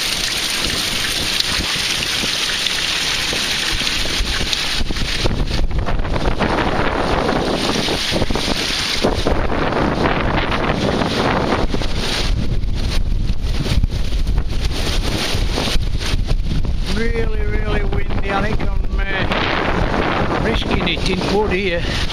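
Strong gusty wind buffets the microphone in heavy roaring bursts throughout on an exposed footpath, with occasional faint creaks and rustles beneath the rumble.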